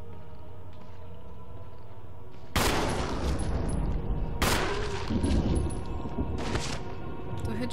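Gunshots in the Xbox One version of Resident Evil: two sharp blasts with long reverberant tails after a quiet stretch, echoing loudly through the rest of the clip.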